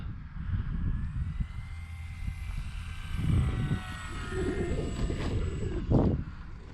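A small FMS PA-18 Super Cub RC model airplane comes in to land on a runway, its electric motor whining steadily with shifting pitch as it passes close, with rustling wind noise underneath.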